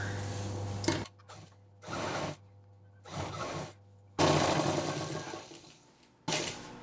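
A sewing machine stitches fabric for a handbag made from leftover cloth, in several bursts of steady whirring broken by short pauses, close and fairly loud, with a low motor hum.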